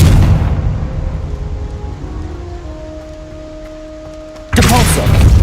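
A Confringo fire spell explodes in the video game Hogwarts Legacy, starting as a low rumbling crackle with faint tones and ending in a sudden loud, bright blast near the end.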